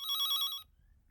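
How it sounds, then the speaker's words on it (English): A telephone bell rings loudly and clearly for a little over half a second in an indoor home setting, then cuts off, leaving only faint low background rumble. "answer the phone now."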